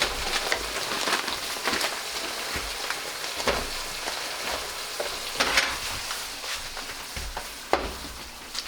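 Brown sugar hits a very hot pan for bananas Foster, setting off a continuous crackling sizzle with stirring scrapes. Close and fairly loud, the frying hiss keeps going with small pops throughout, and no one speaks.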